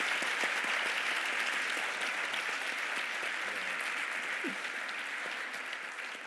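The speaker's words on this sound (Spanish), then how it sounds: "un aplauso, por favor, para estos señores." Audience applause at a vocational training forum, a steady wash of many hands clapping that slowly fades over several seconds.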